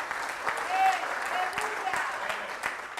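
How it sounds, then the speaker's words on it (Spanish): A church congregation claps steadily in a reverberant room, with voices calling out over the sustained applause throughout. "Dele un aplauso al Señor por eso."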